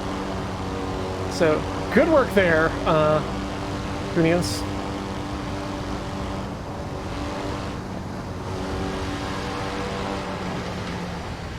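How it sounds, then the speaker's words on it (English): A Mini's small engine strains toward 150 km/h in Assetto Corsa, a steady droning hum running throughout as two people talk briefly over the first few seconds. "a Mini trying to push itself up to 150 kilometers an hour does feel and sound like this"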